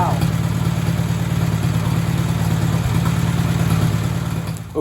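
An old Farmall tractor engine, left sitting for 79 years, runs at a steady, loud idle close by, its low throbbing drone holding even for the whole stretch.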